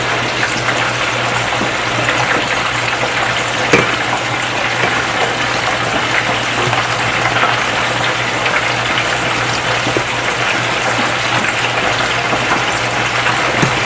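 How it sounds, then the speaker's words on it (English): Water pours steadily into a pot of peanut soup, a continuous broadband gush running alone at even loudness throughout. "And then add about a cup of water and let it cook"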